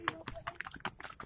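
Quick, uneven clip-clop of horse hooves on a hard surface during a Kuda Renggong dancing-horse performance in Indonesia, a rapid run of knocks close by with some background noise.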